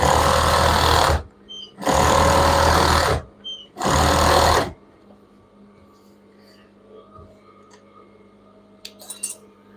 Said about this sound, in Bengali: আমি সেলাইটা করতেছি